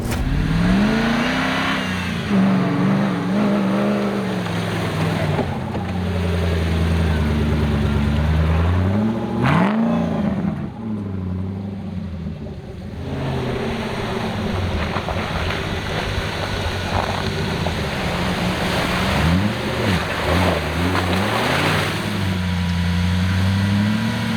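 A Jeep Wrangler TJ engine revs while driving, rising and falling in several sweeping surges under steady road and wind rumble, loud and close, with no voices.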